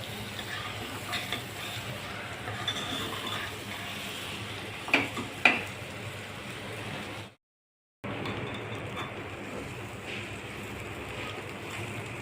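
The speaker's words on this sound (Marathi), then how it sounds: "आता आपली तांदूळ खिचडी छान परतून झाली आहे." Rice and whole masoor dal khichdi with tomato, cinnamon and shahjira being sautéed in a pot, giving a low steady sizzle with a couple of sharper stirring knocks and a brief dropout of silence.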